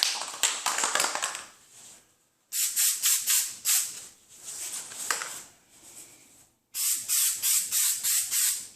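Spray gun laying a light first coat onto a 2015 Honda Civic body after front collision repair: three bursts of close, loud, hissing spray, each made of rapid pulsed passes, split by short pauses.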